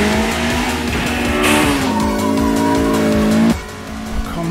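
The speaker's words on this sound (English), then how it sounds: "if I press this gas, his car will spin" Tires squeal loudly as a video game car spins out, with a steady engine drone underneath, cutting off abruptly near the end.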